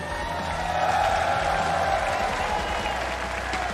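Applause from an esports audience at a Mobile Legends playoff event, a dense continuous wash of clapping that holds steady throughout with a faint crowd murmur underneath.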